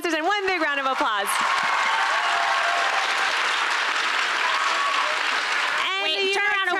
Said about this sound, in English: one big round of applause